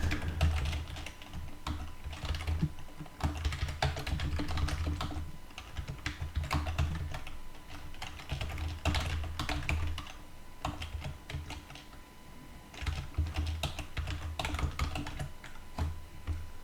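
Continuous typing on a computer keyboard while entering a host name in a network settings page, with close, rapid key clicks in uneven bursts and short pauses, no voices.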